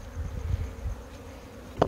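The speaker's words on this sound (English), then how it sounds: "They're covering a good three frames, so it's enough bees." Honeybees on hive frames during a South African rehiving give a low, steady buzzing hum that swells and fades slightly, with a sharper brief rise near the end.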